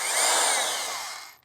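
A corded power drill plugged into a Powdeom 300W portable power station whines steadily at high speed, loud and close, then winds down abruptly at the end with no talk.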